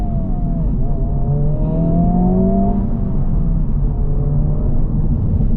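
A 2024 Honda Civic Type R accelerates hard, its engine note loud and close, rising in pitch through the revs with a brief dip at a shift, then climbing again over a rumbling road roar.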